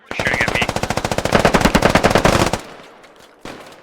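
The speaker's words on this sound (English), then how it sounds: "They're shooting at me." Rapid automatic gunfire rattles in the military shooter game Squad, a long fast burst of loud, close shots in steady rhythm, followed by scattered quieter reports.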